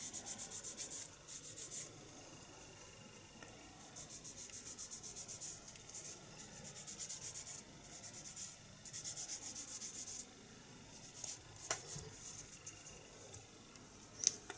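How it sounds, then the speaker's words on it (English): A fine-grade sanding stick rubs down a plastic Tau Fire Warrior miniature from Warhammer 40k, smoothing away sprue lines: close, dry scratchy strokes in steady bursts with short pauses, and no talking. "give it a rub down. This is a much finer grade than the Games Workshop sanding stick."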